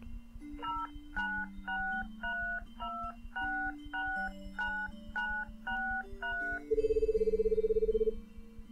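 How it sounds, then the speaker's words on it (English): A character dials a telephone in the video game Cafe 0 ~The Drowned Mermaid~: a rapid series of clear dial-tone beeps over soft background music, ending in a sustained buzzing ring tone. "He stands up and goes to use the phone."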